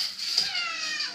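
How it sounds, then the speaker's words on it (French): A cat sitting on a window gives a single short, clear meow, fairly close and alone in a quiet room. "Ah, un chat sur la fenêtre."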